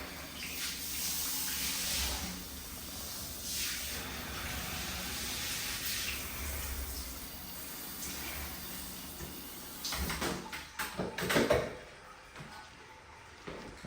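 Water pouring steadily in a shower with a floor that doesn't drain, a continuous hiss of flow that turns louder and more splashy toward the end.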